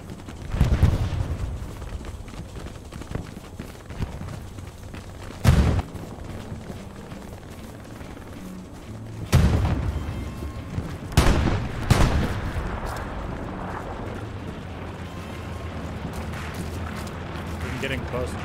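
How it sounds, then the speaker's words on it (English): Enemy artillery shells land in the World War II shooter game Hell Let Loose, several heavy booming blasts at uneven intervals, a couple close together, over a low rumbling battlefield. "Enemy artillery on ping."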